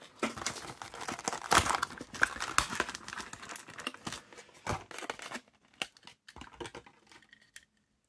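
Plastic packaging on a Matchbox toy car being cut open, with close crinkling, snipping and tearing in irregular bursts that thin out to sparse small clicks near the end.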